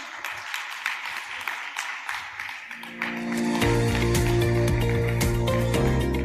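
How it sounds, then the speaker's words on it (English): Audience applause for a finalist at a women in business conclave, moderate clapping that is soon joined by loud music starting partway through. "Let's all give her a round of applause, please"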